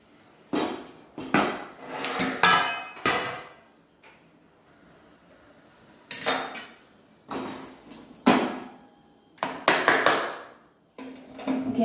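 A knife cuts cooled dhokli into square pieces on a metal plate, producing sharp clustered taps and scrapes up close in several separate bursts with short pauses.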